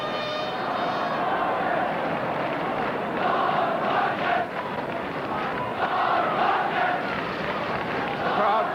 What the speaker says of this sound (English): The crowd calling for more from Don Rodgers.